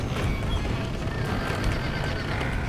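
Horses whinny and neigh amid a clatter of hooves, busy and close, with no talking, in Red Dead Redemption during a barn fire.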